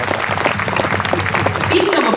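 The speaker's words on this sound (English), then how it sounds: "Give yourself a big round of applause" Audience at a library summer flamenco concert applauds, producing a loud, dense, continuous patter of clapping hands with voices mixed in throughout.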